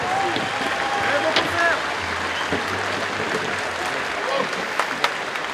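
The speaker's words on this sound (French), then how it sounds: "Et vos applaudissements, messieurs, dames, pour accueillir Adrien, Ludo, Bastien, Greg et Hervé." Audience applause welcomes a five-piece band at an outdoor floating stage show opening for a headline singer, steady clapping carrying on under a voice talking over it.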